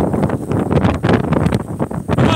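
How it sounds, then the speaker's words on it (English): Strong wind blowing outdoors and buffeting the microphone in loud, rumbling gusts that rise and fall unevenly, with no speech. "it's windy as hell out here"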